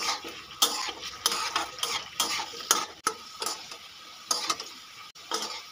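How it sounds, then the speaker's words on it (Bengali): Potato pieces seasoned with salt and turmeric fry in a pan for a drumstick vegetable curry, with repeated scraping stir strokes at an uneven rhythm over a steady close sizzle. "এবার আমি আলুগুলোকে একটু লাল লাল করে ভেজে নেব।"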